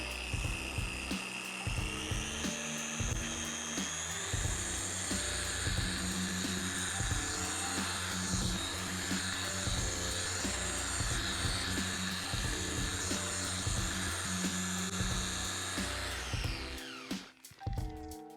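A machine polisher whirs steadily as it works over car paint, a loud continuous motor whine with shifting pitch that holds for most of the stretch before cutting off near the end.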